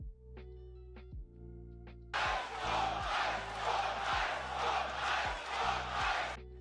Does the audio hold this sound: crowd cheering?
yes